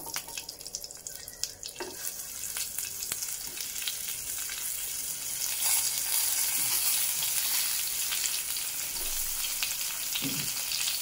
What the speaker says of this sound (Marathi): त्यानंतर आपण हे जे भरली वांगी आहेत ती यात घालूया।